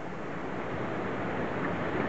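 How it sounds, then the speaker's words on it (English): A small waterfall in a valley sends out a steady, rushing wash of falling water, mixed with wind, that swells slightly toward the end. "First little waterfall over there, you can probably hear it as well."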